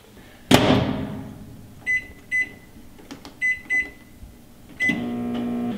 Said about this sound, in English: our squash is in the microwave cooking up and getting ready for us